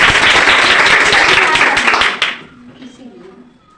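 Audience clapping at a coaching centre gathering in a Bihar village, a dense, loud burst of many hands that stops abruptly after about two seconds, leaving faint voices and room murmur.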